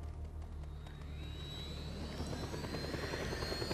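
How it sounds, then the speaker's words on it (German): A helicopter taking off in the video game Just Cause 2, its steady rotor and engine drone rising in pitch as a whine climbs, heard at a moderate level with no talk. "Schnappen wir uns wieder ein Heli."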